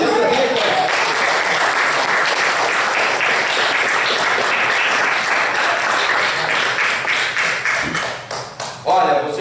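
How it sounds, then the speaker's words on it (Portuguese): A church congregation claps loudly and steadily in a continuous wash of applause that fades and breaks up toward the end. "Você pode dar uma de palmas?"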